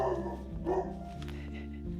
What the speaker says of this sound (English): including the dog barks